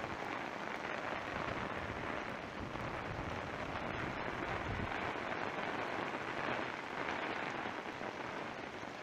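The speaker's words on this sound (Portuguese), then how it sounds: "Muita chuva mesmo aí." Heavy rain pours down steadily during a live outdoor news report in Barra do Caraxiu, Bahia, a dense, loud, unbroken hiss with no voices.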